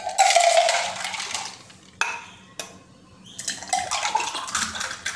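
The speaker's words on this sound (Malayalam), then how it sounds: "നമ്മൾ ഈ എടുത്ത സൂറത്ത് കോഫി ഇതിലേക്ക് ഒഴിച്ചൊന്ന് മറിച്ചടിച്ചെടുക്കാൻ വേണ്ടിയിട്ടാണ്, നല്ല പതഞ്ഞ് വരുന്നത് കിട്ടാൻ വേണ്ടിയിട്ടാണ് നമ്മളിങ്ങനെ ചെയ്യുന്നത്" Surat-style cold coffee is poured back and forth between cups to froth it, making a loud, splashing liquid stream that breaks off, is followed by a couple of clinks, and then pours again.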